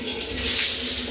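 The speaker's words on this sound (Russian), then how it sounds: "Это холодный у нас душ." A cold shower in a Russian bathhouse runs steadily, a loud, close, continuous hiss of spraying water with no break.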